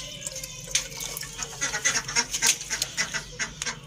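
Small ducklings on a farm quack and peep in quick, uneven bursts, close by, over a steady low background hum.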